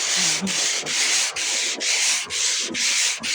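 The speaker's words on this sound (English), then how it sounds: "It's a block and you have adhesive backed sandpaper on this lightweight block." A long sanding block with adhesive-backed sandpaper is worked over the body of a 1989 GMC Sierra 2500, making steady rhythmic back-and-forth rasping strokes, about eight close, even passes.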